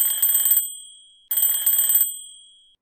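An alarm clock rings in two bright, shrill bursts of rapid electronic beeping, each about half a second long and trailing off into silence, loud and close with no talk.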